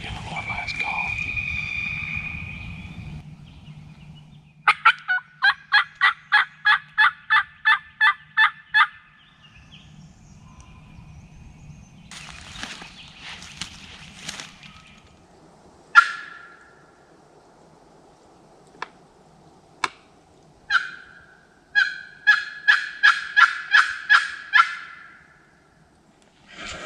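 Wild turkey gobbler in Georgia woods sounds off with sharp rattling gobbles, interleaved with runs of rhythmic hunter's calls and isolated clucks; loud, crisp bursts separated by quiet pauses, with a voice speaking at the start.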